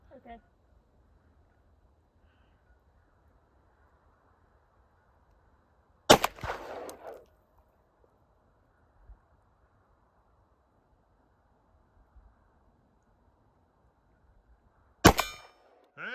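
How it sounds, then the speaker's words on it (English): Two sharp gunshots crack at a steel target square on a shooting range, each followed by a brief ringing clang, separated by about nine seconds of near silence. "Abby, shoot the bottom square on the left, the one that's closer to the ground."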